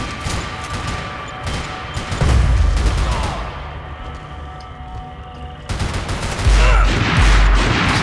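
Gunfire in the Max Payne 3 multiplayer shooter: rapid loud bursts of automatic fire with heavy booming impacts, in two stretches separated by a quieter gap.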